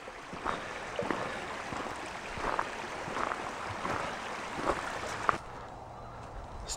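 A small brook called the Run flows beside a trail in Cole Harbour Heritage Park, a steady watery rush with light splashing pulses and footsteps, ending abruptly.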